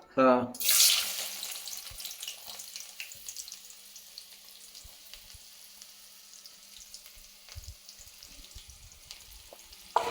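Onions hitting hot oil in a pan for bitter gourd fry, an initial loud burst of sizzling that settles into a steady, moderate frying hiss with faint scattered clicks.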